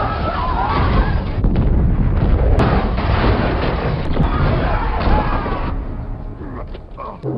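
A loud, continuous deep rumble with crashing debris and scattered bangs fills the whole stretch, like a violent earthquake in a film soundtrack.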